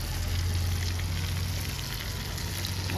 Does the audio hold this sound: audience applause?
no